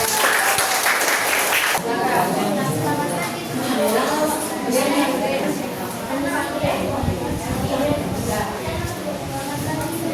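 A school class claps hands together in the room, first a burst of loose clapping, then rhythmic clapping mixed with voices talking and chattering throughout.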